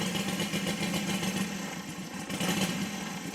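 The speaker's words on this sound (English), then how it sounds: "So now it's idling." A Saito FG60 model aircraft gas engine idles steadily and close by, a continuous mid-pitched drone that holds constant throughout with a slight dip partway, with no voices.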